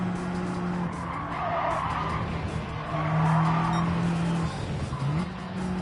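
In Gran Turismo 7, a race car's tires squeal and skid under hard braking over a steady engine drone, with the pitch sliding near the end.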